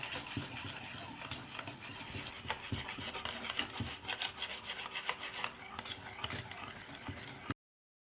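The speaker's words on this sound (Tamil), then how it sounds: "இது வந்து எலக்ட்ரிக் பிளெண்டர் இல்லாமல் கையிலே நல்லா கலந்து விட்டுக்கோங்க." Sweet egg batter for a South Indian mutta mittai being stirred by hand in a bowl, without an electric blender, giving a steady close scraping and rubbing sound with repeated strokes throughout.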